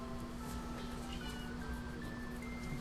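Cats meow faintly in the background of a room, their thin, drawn-out cries barely rising above a steady electrical hum and low noise.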